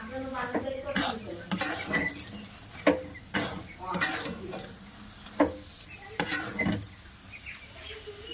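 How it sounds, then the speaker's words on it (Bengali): Ghee sizzling in a pan as a sandesh sweet mixture made without chhana is stirred, heard as a series of spatula scrapes and knocks against the pan over a faint sizzle, with some brief voiced sounds between strokes. "এবার ওর মধ্যে একটু ঘি দিয়ে দেব, 1 চামচ মতো"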